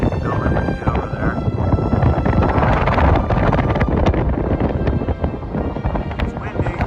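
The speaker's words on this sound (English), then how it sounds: "It's windy." Strong wind blows steadily across the microphone on a bridge over a Grand Canyon trail, a loud continuous roar and buffeting that covers everything.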